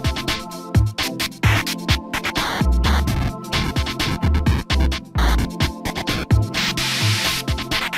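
A PS1 rhythm game track fully built up from looped samples, playing as a dense, continuous mix with a steady beat and thumping bass hits under layered, busy upper parts.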